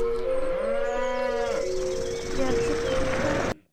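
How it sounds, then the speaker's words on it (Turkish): A cow moos loudly and close by, one long drawn-out low call, followed by a rougher second bellow before it cuts off. "Bir sürü inek ve hepsi de boğa."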